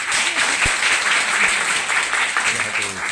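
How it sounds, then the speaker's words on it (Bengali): Women in a training-session audience break into applause, a dense, continuous crowd clapping with a few voices calling out beneath it. "এবার মেয়েরা একবার হাততালি দিন"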